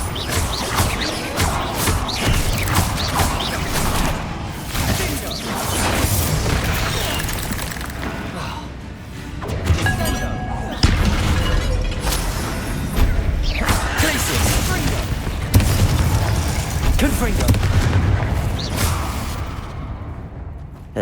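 A Bombarda spell explosion in the Hogwarts Legacy video game booms inside a tomb, set within a dense, continuous wash of loud combat rumble, whooshes and pops, with voices speaking over the noise.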